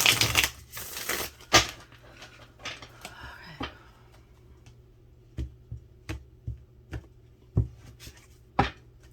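Tarot cards being shuffled during a daily reading, a dense burst of riffling at first, then scattered sharp taps and slaps of cards spaced out, close and crisp, with no talk.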